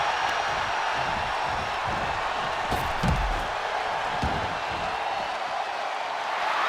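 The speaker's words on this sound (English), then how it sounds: "The sound of this crowd is deafening" A dense arena crowd roar from the WWE 2K25 wrestling game fills the space steadily, loud and continuous, with a brief low thud of impact near the middle.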